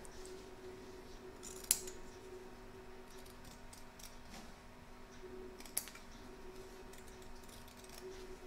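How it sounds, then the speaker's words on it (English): Scissors snip away excess batting from the back and front of an embroidery hoop, making a couple of sharp, quiet cuts alone against a faint steady background hum. "You're now going to trim away the excess batting from both the back and front of your hoop."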